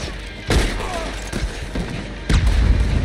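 Gunfire in Red Dead Redemption 2 during a shootout at a tower: several heavy, booming shots ring out at irregular intervals over a dense, loud battle background.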